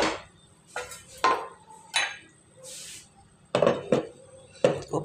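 Metal lid set down over a pot of spinach cooking on the stove, giving several sharp clanks and clinks spread across a few seconds, fairly close and with no talking.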